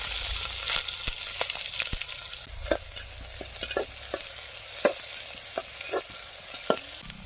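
Onions frying in oil with spices and kasuri methi for a village-style country chicken biryani, a continuous close sizzle broken by repeated spatula stirring scrapes and clinks at an uneven rhythm.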